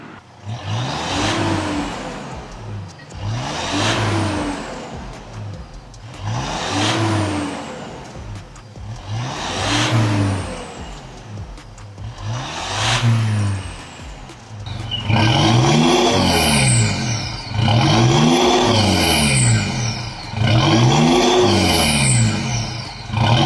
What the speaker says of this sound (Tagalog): tapos ngayon nakapalit na yung full exhaust using our products, Spitfire Thunder muffler at Spitfire tip